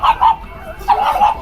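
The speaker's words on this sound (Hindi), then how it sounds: "कुत्ते ने दौड़ा लिया।" A dog barks twice in quick succession near a Yamuna riverside ghat in Delhi, reached through lanes between houses; the sharp yips are fairly loud and close over light outdoor background noise.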